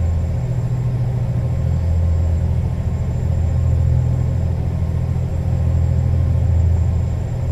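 A deep, steady truck engine hum in American Truck Simulator drones continuously, low and even, with no speech.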